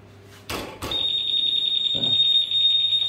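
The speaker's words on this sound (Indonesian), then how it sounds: "Ini alarm aktif pada saat motor terganggu atau tersenggol." Keyless anti-theft alarm on a Honda Beat Deluxe scooter fitted with a Honda PCX 160 SCU, a steady high-pitched buzzer tone sounding continuously after a couple of brief knocks, with a short noise burst partway through.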